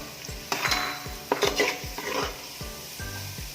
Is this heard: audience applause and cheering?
no